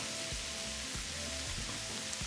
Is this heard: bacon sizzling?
yes